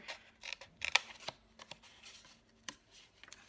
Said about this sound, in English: I think I'm just gonna cut this with these scissors, just because it's easier